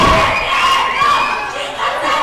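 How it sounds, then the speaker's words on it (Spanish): Spectators shout and cheer at wrestlers during a lucha libre anniversary show, a loud, dense mix of overlapping voices that carries steadily throughout with a few dull thumps. "Ustedes alcanzaron a escuchar todo lo que le gritan."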